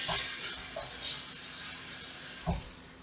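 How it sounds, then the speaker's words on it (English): Water running from a tap over hands at a sink in a home kitchen, a steady low splashing hiss with a few brief louder splashes, no talking. "I'm going to wash my hands real quick"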